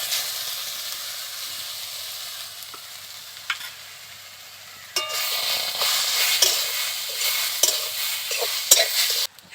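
Elephant foot yam frying in a pan as mustard paste is added, a quieter sizzle that jumps louder when the paste goes in, followed by close stirring scrapes and crackles.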